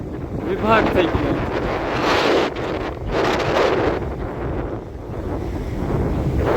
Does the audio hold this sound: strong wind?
yes